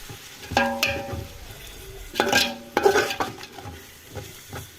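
A spoon stirs a biryani mixture of country chicken, rice and yogurt in a metal pot for a Kadapa-style village natukodi biryani. A few distinct scraping, clinking strokes ring against the pot, close and moderately loud, separated by quiet gaps.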